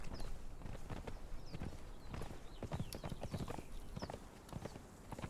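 Horse hooves clip-clop in a steady trotting rhythm, close and continuous, over a low rumble of background noise, from a horse in the video game Conan Exiles.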